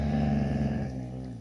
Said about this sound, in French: j'ai mon fidèle toutou qui, dès que je suis à table, il est là aussi